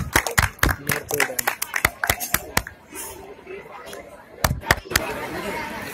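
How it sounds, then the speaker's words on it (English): An audience at a zonal-level kabaddi event claps in scattered, sharp bursts that fade into a lull and then pick up again, with background chatter running underneath. "Clapping."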